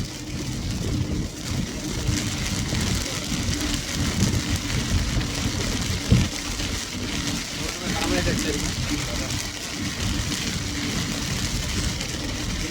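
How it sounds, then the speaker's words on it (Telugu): A dense, continuous roar of heavy rain around Inkollu and Ongole fills the whole stretch, with muffled voices mixed in underneath. "వాన"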